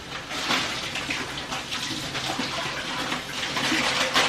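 Green beans rinsed under a running kitchen tap, with a steady close hiss and splash of flowing water that continues throughout with small fluctuations.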